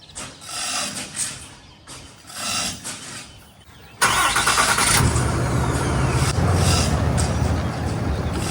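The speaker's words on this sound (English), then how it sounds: "I'm gonna bring the truck around, right?" A pickup truck engine idling and moving slowly while maneuvering to hitch a trailer at a small construction site, faint uneven rumbles at first, then a sudden louder steady engine roar up close for the rest.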